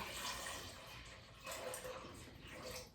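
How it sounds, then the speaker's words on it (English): Water from a pitcher pours into a pot of potatoes in a kitchen, a soft, steady splashing pour with slight surges, fairly faint and with no talking. "add enough water to just barely cover the potatoes"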